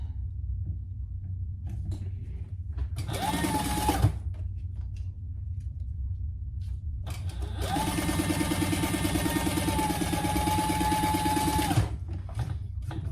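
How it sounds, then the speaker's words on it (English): Sewing machine stitching the seam of a fabric mini traveler sling pouch, running in two bursts: a short run of about a second, then a longer steady run of roughly four seconds, close and fairly loud with quiet pauses between. "we're going to sew that together at the seam allowance in the pattern"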